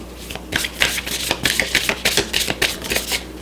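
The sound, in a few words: shuffling tarot cards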